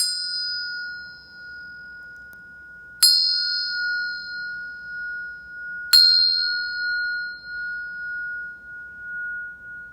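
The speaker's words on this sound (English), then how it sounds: "I'm going to hit the Ting Sha bell, the bell of mindfulness" A Tibetan ting sha bell struck three times at even intervals, each bright metallic ring sustaining and slowly fading before the next strike, alone in a quiet room.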